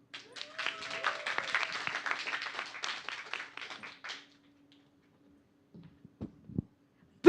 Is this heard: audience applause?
yes